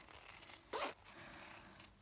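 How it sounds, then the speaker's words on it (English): Scissors snip sewing thread once, a single brief close cut, quiet and alone against low room noise. "Now I'm going to cut the thread."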